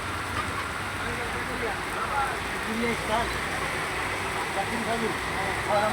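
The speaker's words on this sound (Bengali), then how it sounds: "ভালো বৃষ্টি হইতেছে," Heavy midday rain pours down in Jinjira, a steady broadband hiss that holds at an even level throughout, with faint indistinct background activity and no clear speech.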